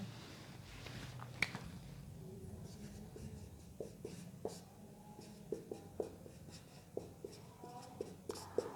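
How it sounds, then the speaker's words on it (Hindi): Pen scratching on paper in short strokes and taps, faint and close, with soft breaths and quiet murmuring in the background. "लिख देते हैं"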